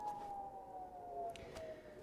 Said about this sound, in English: you can hear the sirens clearly sounding behind John there